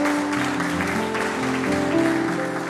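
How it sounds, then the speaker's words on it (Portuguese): A church congregation claps together, a dense steady wash of applause lasting the whole stretch, with sustained worship music playing underneath. "Aplaudam ao Senhor"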